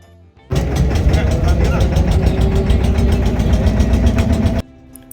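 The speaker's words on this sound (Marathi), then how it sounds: "थोड्याच वेळात आमची बोट म्हणजे दुपारी चार वाजता आमची बोट इथून निघाली ती संगमावर जाण्यासाठी" Motorboat engine running on the river toward the Sangam confluence at Prayagraj during the Maha Kumbh, starting abruptly and holding a loud, steady, rumbling drone for about four seconds before cutting back to quieter background.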